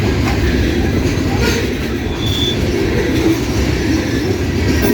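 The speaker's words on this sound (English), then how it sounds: "Yeah, this train's going relatively fast." A 200-car CSX loaded coal train rolls past at speed at Morgan Station Road, giving a loud, continuous rumble of heavy wheels on rails with steady clattering, while someone speaks over it.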